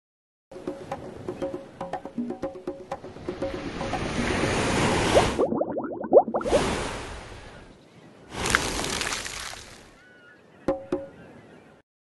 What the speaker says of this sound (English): Wave. A wave is when the top of the water moves.